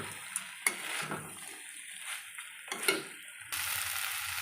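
Spices fry in a pan for a soybean curry, a low sizzle broken by occasional stirring clinks and scrapes, with a louder burst of frying near the end.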